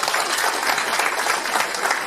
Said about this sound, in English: If you get a round of applause from the audience,